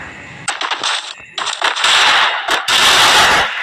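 Gunfire crackles in Free Fire gameplay, dense rapid bursts that are loud and close, with a brief lull before heavier sustained firing.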